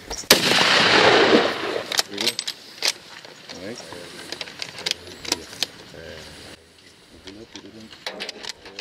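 Rifle shot at a free-range cape buffalo during a hunt, a sharp loud report with a short rumbling tail, followed by clicks and rattles of handling gear while hunters talk quietly nearby.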